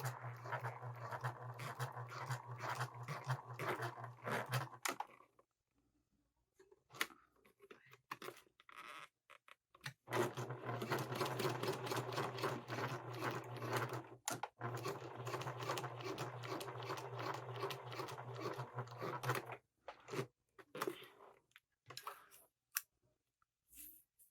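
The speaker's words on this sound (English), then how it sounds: "Go back over my seam again." A sewing machine runs back over a seam on a fabric sling, stitching in bursts with a rapid mechanical patter, stopping briefly in between, close and fairly quiet.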